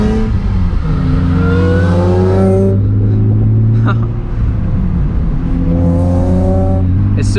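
A supercharged Nissan 350Z with a VQ V6 revs loudly and close by in rising, falling pulls with a deep throaty tone. It eases briefly mid-way, then climbs again, with voices speaking over the engine.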